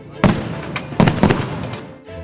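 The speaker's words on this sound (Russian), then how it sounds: "Завершился фееричный день артиллерийским салютом." An artillery salute with fireworks at the Kronstadt city day celebration: several loud, sharp booms in irregular succession, each with a rumbling tail, outdoors and close.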